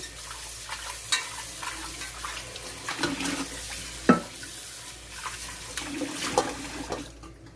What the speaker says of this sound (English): So I'm going to rinse this out